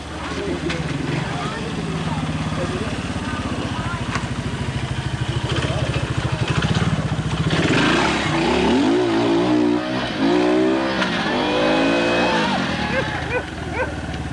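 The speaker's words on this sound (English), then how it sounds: "Eddie Lejeune now riding" A trials motorcycle works over a section at a 1986 FIM Observed Trials World Championship round in Ioco, British Columbia, its engine blipping and revving under steady crowd noise, with a commentator talking throughout.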